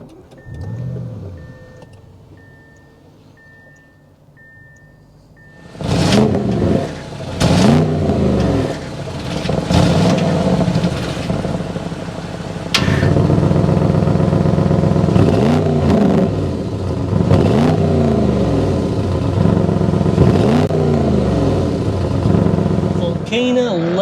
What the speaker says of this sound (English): This is a V8 twin turbo. We need to go inside, start up so you can hear that exhaust note.